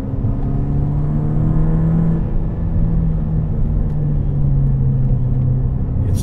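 A Volkswagen MK6 GTI with a big turbo and limited-slip differential, showing 13,000 miles, drives along in a steady, close engine drone with road rumble, no voices.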